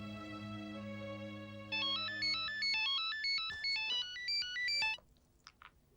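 A mobile phone ringtone plays in a domestic scene: a sustained tonal chord first, then a bright, rapid melodic pattern of rising and falling notes lasting a few seconds before cutting off, followed by faint handling sounds.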